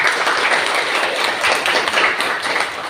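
Students in a classroom clapping for a classmate, a dense, steady round of hand claps lasting a few seconds without talk.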